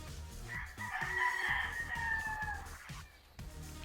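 McLean gamefowl broodcocks crowing in a gamefarm pen, with one loud, drawn-out rooster crow close by, followed by faint clucking and farmyard background.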